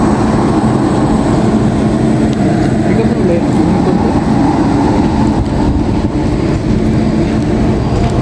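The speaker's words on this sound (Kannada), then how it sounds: "ಮುಂದೆ ನಿಂತು ಗಾಯ್ಸ್ ಟ್ರೈನ್ ಹೊಡ್ತು" A train passes close by at a station area in Hubli, a loud, dense rumble and clatter that holds steady and continuous for several seconds.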